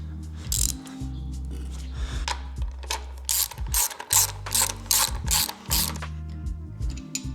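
A ratchet wrench snugs down the timing cover bolts on a Ford 351C engine build, with repeated close, loud clicking pawl bursts in short strokes and brief pauses between them, alongside a low mechanical hum.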